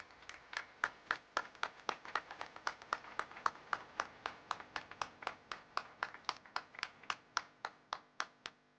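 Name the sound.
audience applause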